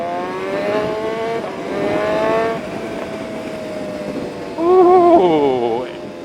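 A BMW S1000R motorcycle fitted with a Rapid Bike Evo module revs its exhaust in several rising, whining throttle blips, ending in a louder, sharper rev that sweeps up and down. The revs are close and strong.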